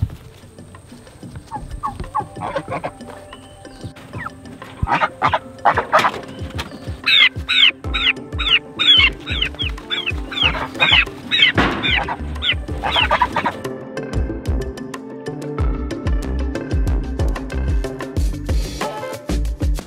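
Turkeys and a goose being herded outdoors on a hot evening give off a busy stream of repeated gobbles, clucks and honks, close and fairly loud, with bursts of rapid calls and no talking.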